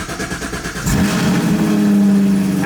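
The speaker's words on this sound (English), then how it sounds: "Cold start, Camaro SS1LE, Texas speed headers, X-pipe, MBRP, Axleback, and tuned on E85." A Chevrolet Camaro SS 1LE with headers, X-pipe and MBRP axle-back exhaust, tuned on E85, fires up from cold with a sudden loud burst, then settles into a deep, rumbling high idle close by.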